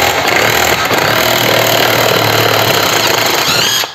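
Heimerdinger LB165 impact wrench knocking a dented nut off a wheel hub, a loud continuous hammering rattle held steady for about four seconds.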